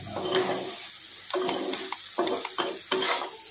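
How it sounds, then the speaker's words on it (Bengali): Shrimp stir-fried in a pan, with a run of bursts of sizzling and scraping at an irregular rhythm, close and moderately quiet, no voices. "চিঁচড় চিংড়িটা খুব ভালোভাবেই রান্না করছে"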